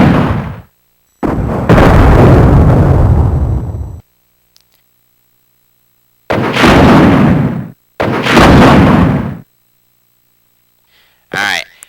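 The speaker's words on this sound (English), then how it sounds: "M66 Rocket Launcher. An old but powerful weapon." An M66 rocket launcher fires in Resident Evil 3: Nemesis, each shot followed by a heavy, rumbling explosion, with several loud blasts separated by silent gaps and a short cry at the very end.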